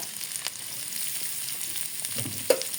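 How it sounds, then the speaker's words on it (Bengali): Onions fry gently in a pan, a faint, even sizzle broken by a few light stirring scrapes and a sharp clink of a utensil. "আর মাছ দিয়ে খাওয়ার জন্য এই যে আমি পেঁয়াজ ভেজে নেব।"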